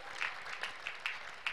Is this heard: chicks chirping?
no